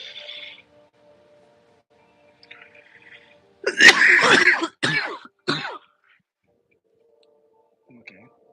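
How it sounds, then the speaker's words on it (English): A single harsh cough bursts out close by, followed by a couple of short throaty clears, with quiet pauses around them. "I'm holding back a cough."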